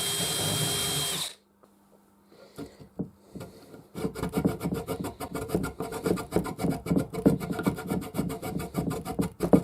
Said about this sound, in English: gave the whole thing a quick rub down with some 400 grit paper